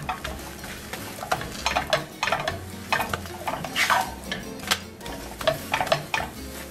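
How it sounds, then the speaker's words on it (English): A tortilla warms on both sides in a hot pan with a spoon of olive oil for a vegetarian Santa Fe quesadilla: a soft, steady sizzle broken by irregular close scrapes and light taps of a utensil against the pan, with no voices. "Then I put a tortilla. Just have to warm it nicely,"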